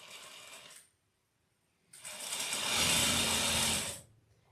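A sewing machine with a knee lifter stitching very fast, a short burst, a pause of about a second, then a longer loud rapid whir that stops abruptly.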